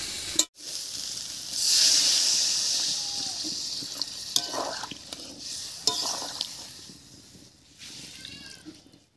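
Water splashes into a pan of spiced cauliflower, potato and soybean curry, setting off a loud hissing sizzle that gradually fades, with a few spoon knocks and clatters near the end.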